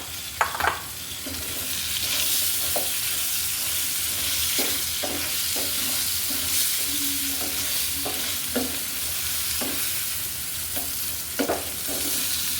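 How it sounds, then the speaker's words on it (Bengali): Chunks of elephant foot yam (ol kochu) fry in hot oil with a steady, dense sizzle throughout, broken by repeated scraping and turning clicks of a utensil in the pan, close up and with no talking. "এগুলো ভালো করে ভেজে তুলে নিব"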